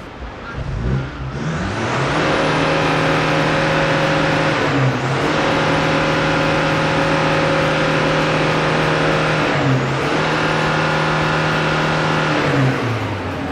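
A car engine undergoing a detox smoke test is revved hard and held at high revs in three long sustained pulls, each dropping briefly before climbing again, loud and close with no talk.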